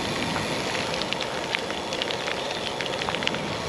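Steady rain shower falling during a storm outdoors, a dense continuous hiss with scattered drop patters and no voices, heard on a northbound ultra-cycling ride in difficult weather.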